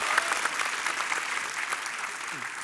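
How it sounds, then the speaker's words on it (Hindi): A television studio audience applauding steadily, a dense wash of clapping that carries on evenly throughout. "तालियां"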